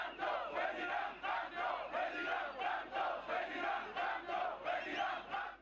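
A large open-air crowd at a 2018 presidential campaign rally in Tchang, Cameroon, cheers and chants in steady rhythmic waves, loud and sustained throughout.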